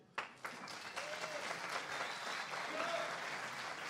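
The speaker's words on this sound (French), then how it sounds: "on peut faire un applaudissement pour le groupe" At a music festival, the audience applauds the band in a steady crowd roar that opens with a few sharp claps. A voice talks over it faintly and the sound stays fairly distant.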